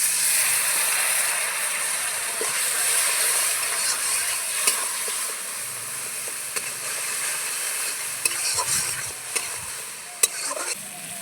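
A pan of sizzling fish curry made with bata fish hissing loudly and steadily as a splash of water goes in, steam rushing with a few sharp utensil clicks near the end.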